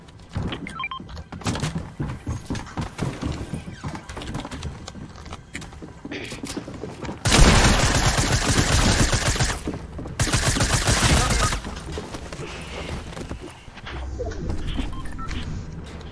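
Gunfire in a multiplayer video game played with a squad of friends: a dense burst of rapid shots and thuds in the middle, surrounded by softer game noise and scattered impacts.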